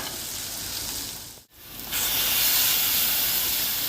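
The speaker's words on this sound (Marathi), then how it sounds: "आता वाटण आपण असं परतून घेऊया" Ground spice paste sautéing in a pan for an eggplant and potato curry, a steady close sizzle and hiss that dips into a brief pause, then resumes louder and brighter.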